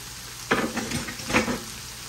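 Onions and shredded cabbage stir-frying with onion and garlic powder, a steady sizzle underneath two bursts of louder frying crackle as the vegetables are stirred and pushed around.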